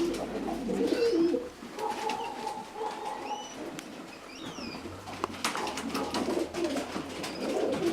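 Racing pigeons in a loft give soft, repeated throaty coos close by, with scattered chirps and a brief flutter of wings over a quiet background.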